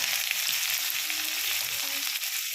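Sliced onions sautéing in a pan with popped mustard seeds and crushed dried red chili give a dense, continuous sizzle throughout, close and fairly loud, with no talking.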